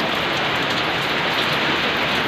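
Rain falls steadily outdoors during a monsoon-season spell, a dense, even hiss of drops on surfaces, close and continuous, with no talk over it.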